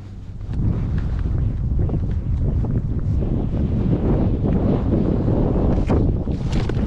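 Cold wind buffeting the microphone out on the California Delta water during bass fishing, a steady loud low rumble with gusts and rustling throughout, no voices.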